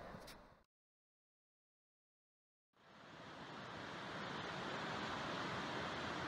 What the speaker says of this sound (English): Just across that little waterfall.